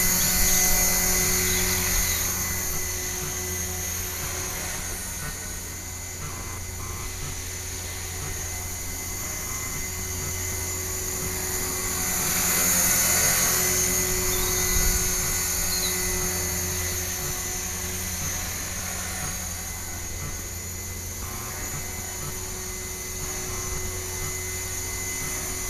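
An RC helicopter fitted with a Leadershobby GY520 gyro flies in a continuous high-pitched whine with a low rotor hum underneath, swelling and fading slightly as it moves, with no one talking.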